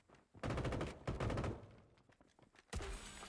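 Bursts of M249 light machine gun fire from PUBG rattle in two rapid volleys, followed by a quieter patter of distant shots and a final burst, all close and sharp with no voices.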